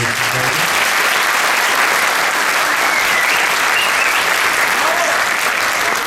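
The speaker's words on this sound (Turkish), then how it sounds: "güçlü bir alkış rica ediyorum" Theatre audience applauding a city theatre company after a play, a thick, sustained wash of clapping from a large crowd, loud and steady for the whole stretch.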